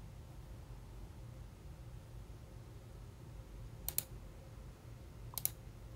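Two sharp mouse clicks, each a quick double click, land a little apart over a steady low hum at a computer running HMI configuration software for an Allen Bradley PanelView 800 terminal.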